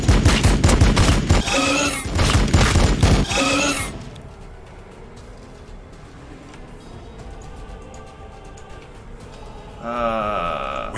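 Gunfire in Warhammer 40k Battlesector: a dense, loud volley of shots and crashing blasts for a few seconds, fading into a quieter rumbling battlefield bed, with a short voice near the end.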